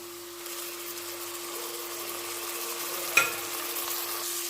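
Onions sautéing in oil in a pressure cooker for chicken biryani give a steady, close sizzle throughout, with a brief metallic clink from stirring near the end.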